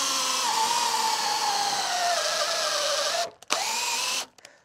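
A power drill bores a 16mm hole through a cedar-clad door, its whine holding steady and slowly dropping in pitch as it cuts, then stopping briefly, restarting and cutting out near the end.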